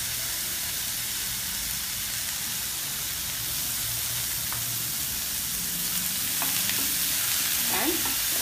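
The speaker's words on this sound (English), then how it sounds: "And stir it." Cooked channa dal with grated coconut stir-fried in a pan, a steady close sizzle and hiss with a few light scraping stirs toward the end.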